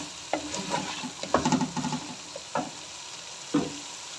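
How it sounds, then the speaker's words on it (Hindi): Chicken being stirred in a frying pan while it browns for a spicy achari curry, with soft sizzling under scraping spoon strokes that come in short bursts and sharper knocks at intervals. "चिकन को यहाँ पर मैंने अच्छे से भून लिया है।"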